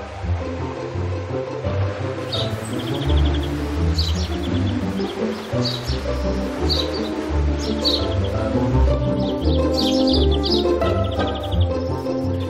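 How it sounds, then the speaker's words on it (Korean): Scattered bird chirps and tweets sound in a forest, partly under a louder low rumbling and rhythmic background. "소울향과 새소리가 가득한 숲길을 지나 어디론가 가는 윤희자 씨."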